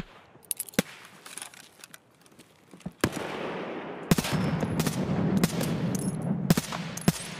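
Video game gunfire: scattered sharp single shots, then from about three seconds a dense run of loud bursts and rapid fire over a steady rumbling background.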